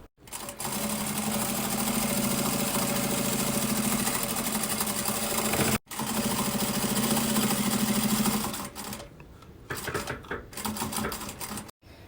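A sewing machine stitches fabric lining with plastic, running in a fast steady hum for several seconds, pausing briefly, then running again before slowing to short stop-start bursts, close and alone.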